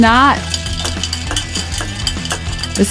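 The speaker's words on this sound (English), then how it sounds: "we're gonna take our spoon and then we're gonna stir the cocktail" A spoon stirs a cocktail in a glass with a steady, soft swirling and clinking, played under background music with a brief voice at the start.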